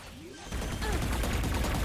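Rapid bursts of gunfire in a Valorant esports match, dense and loud, rising after a quieter opening, with caster commentary underneath.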